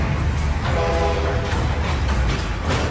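A train rumbles past with a steady, loud roar and a brief horn-like tone in the middle, continuous throughout with no speech.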